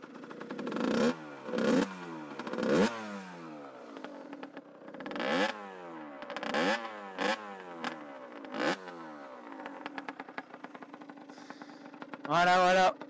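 A Yamaha DT 50 two-stroke motorcycle engine revs hard in repeated sharp bursts, each one rising to a high, buzzy scream and dropping back to a rattly idle between blips, close and loud.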